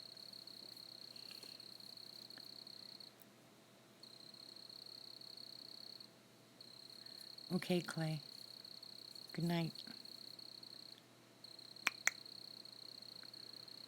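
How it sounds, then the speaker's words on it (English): Crickets chirp steadily at night in a front yard, a constant high trill with brief pauses. A couple of short croaks that sound like frogs break in, and a person speaks briefly. "Oh, and you can get crickets and tree frogs."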